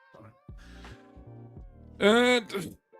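A cat meows near the microphone, a couple of drawn-out, rising calls standing out in the second half, with a person talking quietly earlier.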